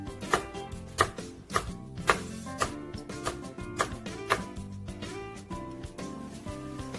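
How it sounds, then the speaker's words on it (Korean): Rapid knife chopping of a red chili pepper on a cutting board, a steady run of sharp chops in quick rhythm, close and clear with no talking. "빨간 고추 하나 썰어 보도록 하겠습니다."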